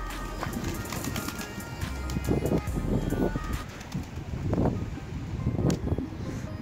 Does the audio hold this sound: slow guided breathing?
no